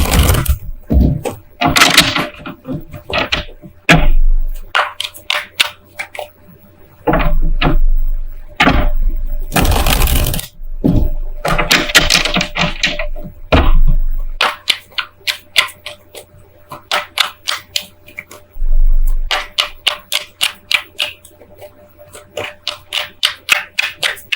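Loud bursts of tarot card shuffling with riffles and sharp slaps, broken by brief pauses and softer rustles across the clip, no talking.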